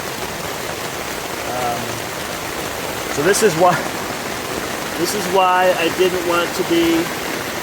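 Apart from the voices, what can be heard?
heavy rain pouring down during thunderstorm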